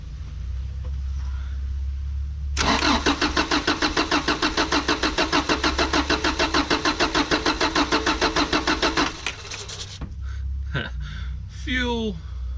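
A Mazda Bongo van engine cranks with a long, steady rhythmic starter churn for several seconds, then catches and runs briefly before revving; close and loud over a low background hum, with faint voices at the end.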